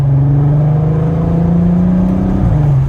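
A Volkswagen car accelerates in second gear with the windows closed, its engine droning loudly and steadily from inside the cabin, rising slightly in pitch before dropping near the end.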